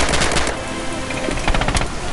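Rapid bursts of machine-gun fire crackle loud and close in Red Orchestra 2's Stalingrad fighting, several quick volleys packed into a couple of seconds.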